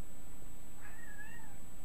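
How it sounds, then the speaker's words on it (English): A cat indoors gives one drawn-out, rising and falling meow, close by and clear over a quiet background hum. "He's making a lot of meowing."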